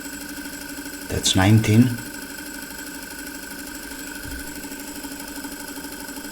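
A Philips N 4502 reel-to-reel tape recorder motor runs with a steady, low, even hum through the whole stretch, and someone speaks briefly near the start.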